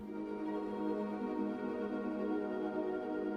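A single sustained synth dub chord, a minor 7th add 9, dark and full, held steadily for a few seconds without any other sounds.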